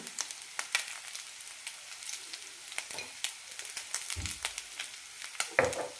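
Cooked rice being stirred with fried onions in a pan, a faint sizzle under sporadic scrapes and clinks of a spoon against the pan, with a couple of louder knocks near the end.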